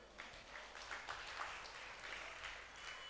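An audience at a Tamil Christian gospel meeting claps briefly, a soft, muffled burst of scattered hands heard from a distance for about three seconds.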